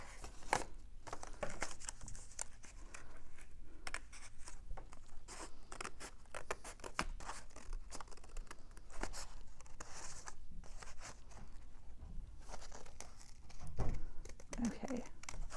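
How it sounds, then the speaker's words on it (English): Sharp scissors snip through paper while cutting around a shape, giving quiet, crisp crunching cuts in an irregular rhythm under steady talking. "using my hopefully nice and sharp scissors. Get a proper cut going on."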